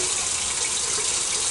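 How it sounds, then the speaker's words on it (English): Tap water runs loud and close from a kitchen faucet during handwashing, a steady unbroken hiss and splash with no voices over it. "Now I'm going to wash my hands."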